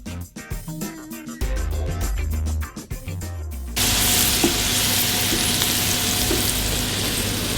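Peppers fry in butter for Turkish menemen, a loud, steady, close sizzle that swells in after a few seconds of lighter tonal sounds and then holds evenly to the end.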